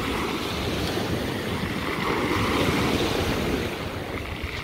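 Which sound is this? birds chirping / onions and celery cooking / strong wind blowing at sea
strong wind blowing at sea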